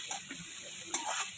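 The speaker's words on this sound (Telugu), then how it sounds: "గోల్డెన్ కలర్ వచ్చిన వరకు ఫ్రై చేసుకోండి." Onions frying in oil for a chicken curry gravy, a steady soft sizzle with occasional stirring scrapes, close and alone without talk.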